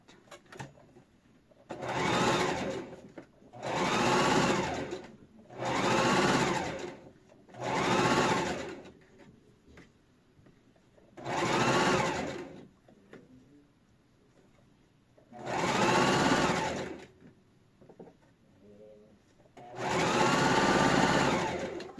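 A sewing machine stitching a cow-shaped fabric bag holder runs in seven loud bursts of a few seconds each, separated by short quiet pauses, with no talking.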